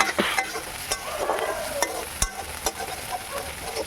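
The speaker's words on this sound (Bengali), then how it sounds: "আদাটা দিয়েও ভালো করে ভেজে নেব।" Ginger paste frying and being stirred in a pan for a fish curry, a steady sizzle with repeated sharp scraping strokes of a spatula, close and moderately loud, no talk.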